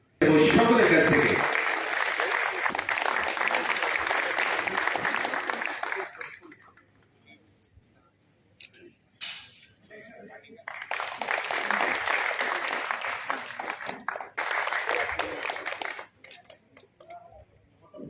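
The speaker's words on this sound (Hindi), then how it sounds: "एक बार जोरदार तालियां होनी चाहिए सभी के लिए" Loud crowd applause at an INTUC workers' felicitation ceremony, a long burst of clapping that fades out, a quieter stretch with scattered sounds, then a second sustained round of applause.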